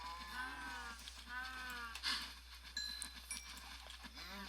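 Cows mooing in Minecraft, several drawn-out bovine calls in a row, quiet and clear over a low background hum, with small clicking sounds between them.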